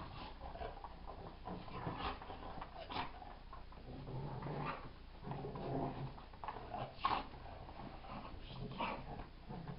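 A dog tussling with a blob toy growls, whimpers and gives small yips in bursts, close by and moderately loud, with no voices.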